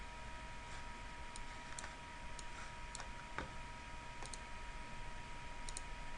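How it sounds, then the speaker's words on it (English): Computer mouse clicks while launching a software installation file, a handful of short, crisp clicks spaced irregularly over a faint steady hum, close and fairly quiet. "just double click on the installation file and click Run"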